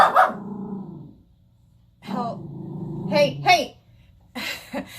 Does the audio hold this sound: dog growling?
yes